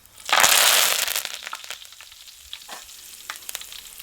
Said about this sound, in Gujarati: અને એક નાખી દઈ મીઠો લીમડો.